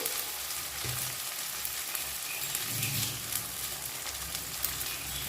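Spices with salt and turmeric powder sautéing in a pan, an even, steady sizzling hiss with faint low stirring rumbles beneath and no talking.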